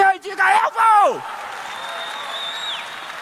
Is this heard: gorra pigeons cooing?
no